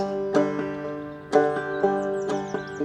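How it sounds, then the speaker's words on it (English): Banjo played with a basic frailing strum, notes ringing in a loose rhythm, a few sharp strummed attacks spaced about a second apart with sustained tones between them, played alone. "when I do my basic frailing strum, it sounds like this."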